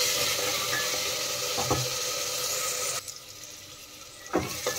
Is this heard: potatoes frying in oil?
yes